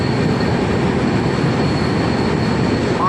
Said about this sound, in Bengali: পাহাড়ের নিচে থেকে যাচ্ছে ট্রেন